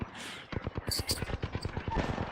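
Gunfire rattles in a ranked online shooter match, rapid bursts of shots crackling close and loud, with a voice talking over part of it.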